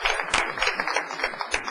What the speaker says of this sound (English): How about a round of applause for all that treatment?